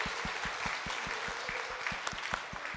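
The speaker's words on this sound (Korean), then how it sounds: "우리 이들을 향해 또 한 번 더 박수로 격려해 주시면 좋겠습니다." A church congregation claps to encourage its teenagers during a Sunday afternoon service, an even, regular beat of claps repeating about five times a second throughout.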